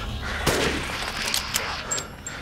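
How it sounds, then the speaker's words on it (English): Sniper rifle shots in the video game Resident Evil Village: a sharp report near the start, then a few fainter cracks, all over a steady game-ambience bed. "So obviously I have the sniper and I need to shoot them"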